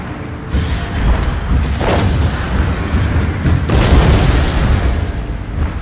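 Heavy in-game cannon barrage from a Total War: Shogun 2 siege battle, a continuous rumble of overlapping booms and blasts lasting throughout, loud and dense with sharper bursts near the second and fourth seconds.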